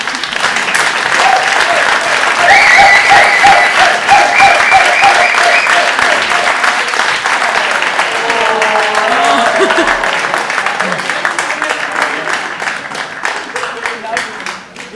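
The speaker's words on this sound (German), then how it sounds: "Applaus" Loud, sustained crowd applause after a speech at a political Ash Wednesday gathering with beer, dense clapping filling the room and slowly tapering off, with some voices and cheers mixed in.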